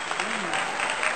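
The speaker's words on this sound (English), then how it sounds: "Somebody give a round of applause for the Holy" Applause from a church congregation, steady and dense, filling the space under a voice that keeps speaking over it.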